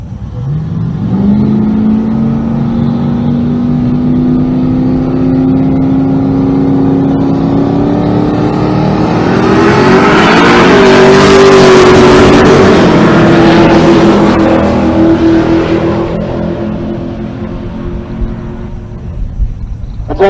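Drag race cars launch at a Pueblo, Colorado race, one an 89 third-gen Camaro against a Monte Carlo, a loud sustained engine roar rising in pitch that swells to a peak and then fades away.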